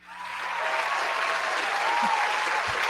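A burst of crowd applause swells up quickly and holds as a dense, even clapping sound with a faint voice underneath.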